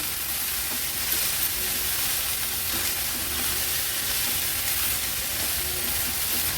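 Chopped leafy greens sauté with onions over a high flame, giving a steady, close sizzle and hiss with faint stirring scrapes throughout, no talking.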